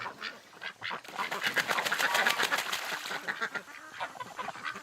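Ducks in winter water, a busy flock honking and quacking nonstop with splashy broadband noise rising in the middle, fairly close and loud, no talk over it.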